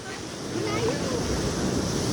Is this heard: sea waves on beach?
yes